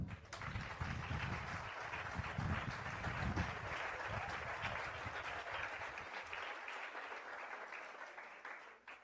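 A youth conference audience applauds at a church gathering, a steady wash of clapping with some low rumble early on, fading off near the end.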